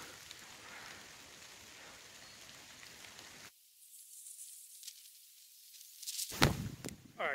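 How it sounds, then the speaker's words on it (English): Hard rain falls in winter woods as a dense, steady hiss of drops on leaves and ground, then gives way to brief louder rustling and movement nearby. "it's actually starting to rain pretty hard now"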